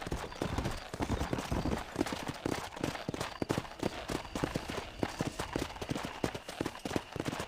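Horse hooves clip-clop in a steady, rapid rhythm across Red Dead Redemption's ranch ground, close and continuous with no talking.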